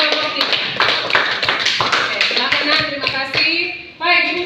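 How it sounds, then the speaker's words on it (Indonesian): A classroom of students applauds a group, a burst of lively clapping from many hands that carries on for several seconds with some taps and shuffling mixed in. "tepuk tangan buat kelompok 3"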